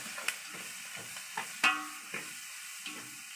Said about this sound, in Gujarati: હવે આ બધું આદુ થઈ ગયું, હવે નાખી દઈએ ડુંગળી.